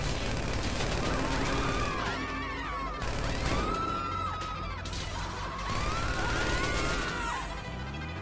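Chaotic gunfire and car crashes in the video game Grand Theft Auto V, with bursts of shots, impacts and wailing siren-like tones running continuously and loudly throughout.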